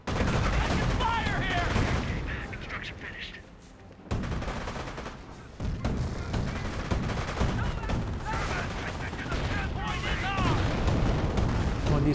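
Battle gunfire in the Company of Heroes real-time strategy game as engineers come under attack, dense continuous bursts of shots and explosions with brief lulls, loud and busy, with a voice commenting over the action.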